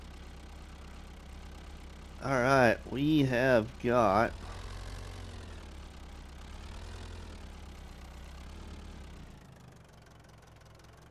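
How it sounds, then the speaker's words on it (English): Unimog engine idling in Farming Simulator 22, a low steady rumbling drone under someone talking briefly, continuing alone afterward and dropping quieter near the end. "this is our Unimog right here"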